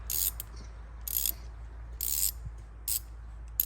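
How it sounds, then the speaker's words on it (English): A reversible ratchet wrench works a bolt on a Chrysler 300's front suspension, giving short bursts of bright clicking at irregular intervals, five or so close quick runs over a low steady hum with no talking. "like easily reversible wrenches, so you could just flip them and go the other way"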